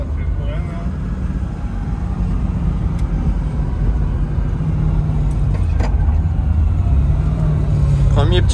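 BMW E36 fitted with a swapped Mercedes M113 5-litre V8 on its first short drive, a steady low engine rumble that builds slightly toward the end.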